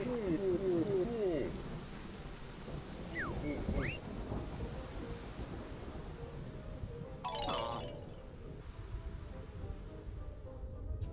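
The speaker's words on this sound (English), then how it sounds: "Alright, so now it's raining again." Rain falls in the Yooka-Laylee video game on Xbox One, a soft continuous patter beneath rumbling thunder and brief game chimes and effects, fairly quiet overall.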